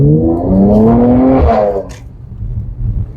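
A Mercedes C43 AMG engine rises in pitch under acceleration while driving, loud and close, then drops away into quieter road and cabin noise.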